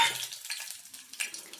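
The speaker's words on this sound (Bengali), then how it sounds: "আর একটু সাদা জিরে এটা দেব, ফোড়ন দিলাম" Dried red chilli, bay leaf, crushed whole garam masala and cumin seeds crackling in a little hot oil, a brief bright sizzle with quick pops, close and fairly quiet, no speech.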